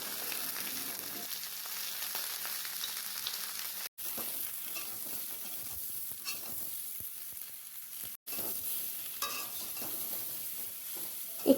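Potato and ridge gourd frying in a pan with salt and turmeric, a steady sizzle with scraping stir strokes throughout, briefly cut off twice.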